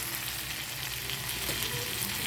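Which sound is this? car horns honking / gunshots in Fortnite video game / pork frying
pork frying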